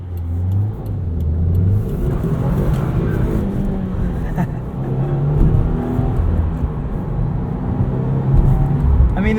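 A white 2020 Subaru WRX Premium accelerates hard with a strong turbo boost, its mid-pitched engine droning loud and steady from inside the cabin with no voices.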